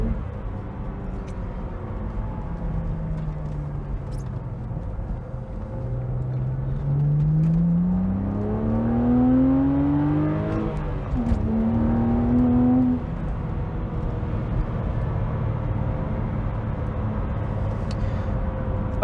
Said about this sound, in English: we're going to be rotating the foot round to blip the throttle